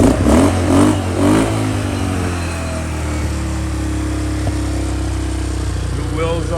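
A 150cc four-wheeler ATV engine revs up twice in quick bursts right after a tune-up, then settles into a loud, steady idle with a lumpy, percolating rhythm, close to the listener.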